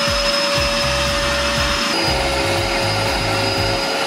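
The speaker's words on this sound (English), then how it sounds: "We're using those trusty dollar store vacuum packing bags." A vacuum cleaner runs continuously, drawing air out of dollar store vacuum storage bags packed with clothes. The whine is loud and steady, with a slight shift in pitch partway through and a pulsing low drone underneath.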